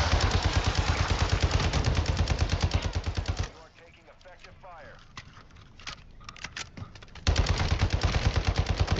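Rapid machine gun fire in Call of Duty DMZ, loud sustained bursts of rhythmic shots, pausing mid-clip for quieter sounds and talk before a second long burst resumes.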